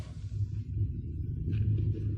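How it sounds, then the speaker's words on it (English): A distant cattle herd stampeding as a radio drama sound effect: a steady low rumble rolls on without a break, swelling slightly toward the end, with faint hiss above it. "That's not thunder, partner. That's cattle on the move."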